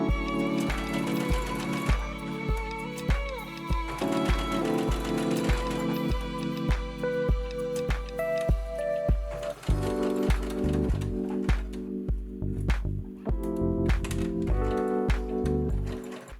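Sewing machine running steadily to attach a lining to the front of a garment fabric, its rapid needle clatter continuous and close with brief pauses and speed changes, no talking.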